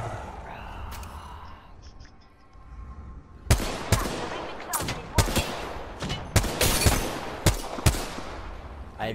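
Gunfire in the Apex Legends video game, a quiet lead-in followed by loud, rapid bursts of shots and sharp single cracks packed closely together, with little talk over them.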